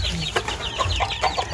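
A farm hen clucks in a quick run of short, close, clipped calls over a second or so, with light rustling and no talk.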